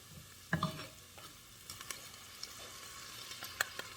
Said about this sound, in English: now I'm going to add my 1 can of 4 ounces of green chili